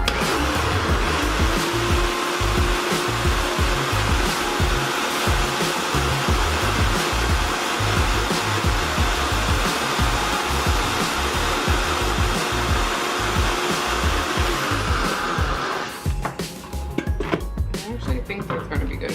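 A food processor whips thick coconut milk in a continuous loud whir for about sixteen seconds, then cuts off, leaving a brief clatter and low room noise.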